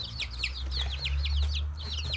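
Chickens cluck and chicks peep in quick, repeated high chirps over a steady low hum, close and busy throughout.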